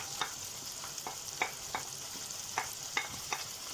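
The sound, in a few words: vegetables stirred while frying in a pan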